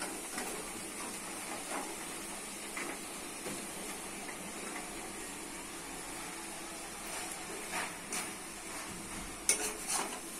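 Stem amaranth greens are stir-fried with potato and dried shrimp in a pan. Soft, steady sizzling runs throughout, with faint stirring scrapes and a few sharper clicks near the end.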